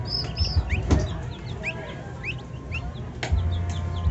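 Newly hatched turkey chicks from an incubator let out scattered high, thin peeps over a low background rumble, with a few soft rustles in between.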